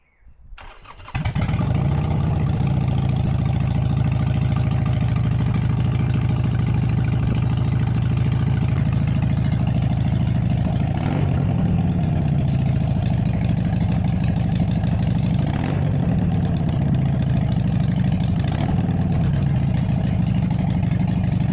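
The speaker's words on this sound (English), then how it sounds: "Now that the new exhaust is complete and fitted, let's do a sound test." A Harley-Davidson Iron 883 Sportster fitted with a new custom exhaust fires up and settles into a loud, close, raspy idle that holds steady for about twenty seconds, with a couple of brief throttle swells and no talking.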